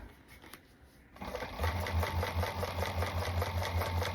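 A sewing machine stitches a fabric seam slowly, starting after a quiet moment and then running in a steady, fast rhythmic hum to the end.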